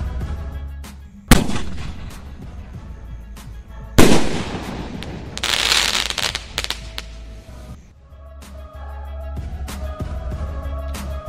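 Small sky shot firecrackers launched during a Diwali crackers test, with two sharp close blasts followed by a burst of crackling and fizzing, then a lingering quieter hiss and scattered pops.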